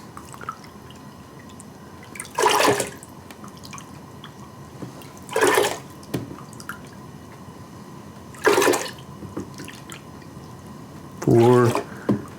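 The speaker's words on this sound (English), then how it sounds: "Now one thing I'm going to put in now is 5 cups of water." Water poured into a bowl of Wisconsin brandy slush mix in several separate cupfuls, each a brief splashing pour a few seconds apart, close by, with quiet room sound between.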